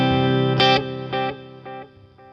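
A distorted electric guitar chord rings out, followed by three fading repeats echoing at a steady pace, washed in reverb and trailing off.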